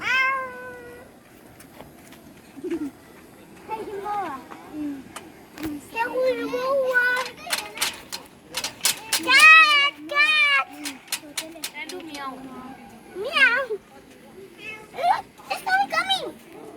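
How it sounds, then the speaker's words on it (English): A civet cat calls with repeated high, wavering meow-like cries, close and fairly loud, while children talk and react around it. "It's a civet cat."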